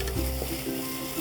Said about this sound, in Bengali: মশলাটা প্রায় ভাজা ভাজা হয়ে এসছে।